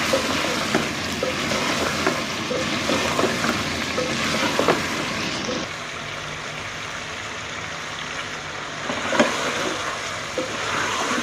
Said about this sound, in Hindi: टमाटर 3 से 4 मिनट हमने इसमें भून लिया।